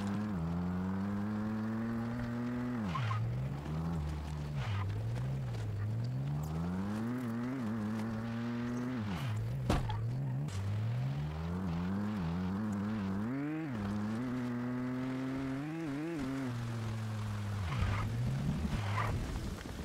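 Car engine driving in the survival video game Once Human, a steady in-game motor drone rising and falling in pitch as it accelerates and shifts, continuous and loud with no talk over it.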